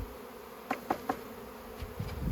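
Honeybees buzzing during installation into a hive, a few short close buzzes passing over steady low background hum, no voices.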